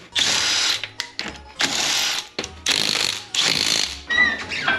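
A cordless impact tool zips lug nuts off the wheels of a Foxbody Mustang, five loud whirring bursts of a second or so each, separated by brief pauses, close up with no talking.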